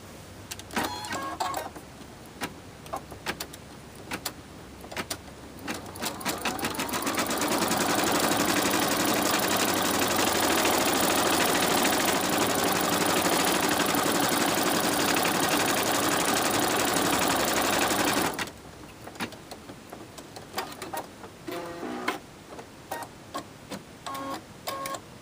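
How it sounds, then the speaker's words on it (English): An embroidery machine stitches a placement outline for layering Mylar into a hooped design, a steady rapid whirring hum running loud and unbroken for about ten seconds, framed by quieter clicks and handling noises before and after. "it will sew an outline to show you exactly where to put the Mylar"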